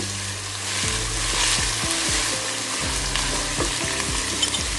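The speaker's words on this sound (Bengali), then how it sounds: "আমি তেলে এভাবে ভেজে নিচ্ছি" Beef tripe frying in gently heated oil, a steady bright sizzle with a run of repeated spatula scrapes and knocks against the pan.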